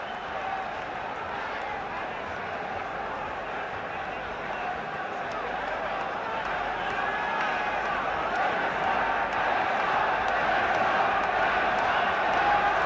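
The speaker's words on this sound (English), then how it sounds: "Listen to this crowd now, stamping their feet and cheering these two on into the final 3 minutes" Large boxing arena crowd at a 1969 title fight between José Legrá and Johnny Famechon, roaring and cheering with stamping feet in a dense, continuous wash of noise that swells louder toward the end, building ahead of the final round.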